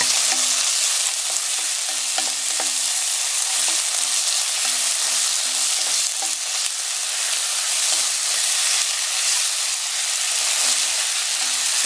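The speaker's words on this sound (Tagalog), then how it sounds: "gisahin lang natin mabuti itong bagoong before natin ilagay yung gata" Shrimp paste (bagoong) and onion sauté in a pan for a crab dish cooked in coconut milk, giving a steady, dense sizzle and hiss with occasional stirring clicks and no talking.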